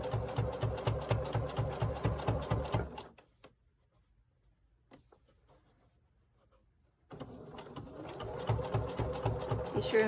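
Sewing machine stitching a tech organizer pouch, running in rapid rhythmic bursts for about three seconds, stopping for a quiet gap, then resuming steady stitching near and loud.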